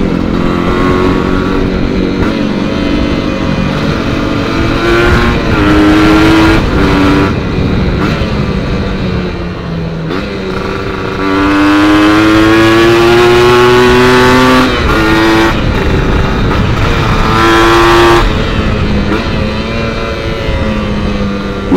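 A Honda Nova Dash motorcycle engine runs loudly up close, revving up and down repeatedly with rising and falling pitch, steady throughout without voices.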